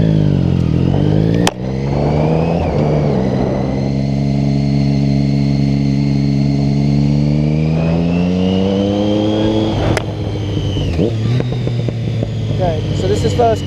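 Triumph Street Triple motorcycle, 2008–2011 model with a quick shifter, revs loud and close during a wheelie in first gear, a sustained rising and falling engine drone with gear-change dips, a voice talking over it.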